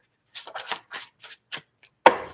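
Tarot cards shuffled by hand in a run of soft, papery riffles and taps, ending in a sharper slap as the deck is squared, close and alone.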